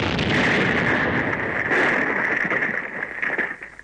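Cartoon gunfire and explosions from the animated series Judo Boy: a loud, continuous roar of blasts and bursts, with a dense crackling barrage that tapers off near the end.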